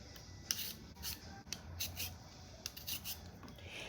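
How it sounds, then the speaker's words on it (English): Russet potatoes being peeled by hand, a run of short, quiet scraping strokes at an uneven rhythm, close and faint, with no talking. "Over here, I have 8 small russet potatoes, or you can use 4 large russet potatoes. So we're going to peel them like so."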